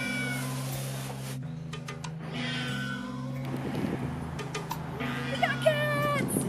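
Several kittens meow repeatedly in high, wavering cries at an animal care and control shelter in Chicago, close and clear over a steady low mechanical hum.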